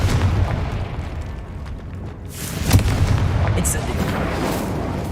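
Booming fire-blast explosion from the Confringo spell in Hogwarts Legacy, a loud close burst with a rumbling, crackling tail, following a dense stretch of other spell blasts.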